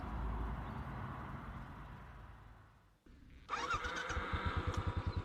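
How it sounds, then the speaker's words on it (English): A Royal Enfield Classic 500 motorcycle engine drones, drops briefly, then picks up again with a rhythmic thumping beat under outdoor road noise, fairly faint. "Back on my Royal Enfield Classic 500, I'll continue along this dead straight road"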